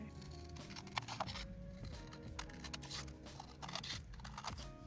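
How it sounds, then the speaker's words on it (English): Scissors snip repeatedly in quick, uneven bursts through card paper, with faint paper crinkling and rustling close by. "Maybe if I just use some scissors."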